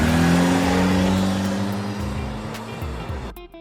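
A car engine revs loudly, its pitch rising and wavering before the sound falls away and cuts off sharply near the end.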